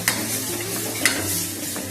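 Pav bhaji masala with red chilli powder being sautéed and stirred in hot oil for potato rassa bhaji, a steady soft sizzle with two brief scraping clinks of the spoon against the pan.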